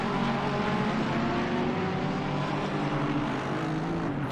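Several GT3 race cars droning together in Assetto Corsa Competizione at the Zandvoort circuit, a dense, steady engine roar with layered pitches held at constant loudness throughout.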